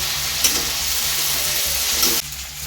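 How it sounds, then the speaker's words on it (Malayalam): Onions sautéing in a pan with green chillies, curry leaves and salt, giving a loud, close, continuous sizzle with stirring scrapes and a low hum beneath, then easing slightly near the end. "അതിനകത്തോട്ട് മൂന്ന് പച്ചമുളകൂടെ കരുവിട്ടു ആവശ്യത്തിനുള്ള ഉപ്പ് ഇട്ടുകൊടുക്കണം നല്ലോണം തന്നെ വഴറ്റണം"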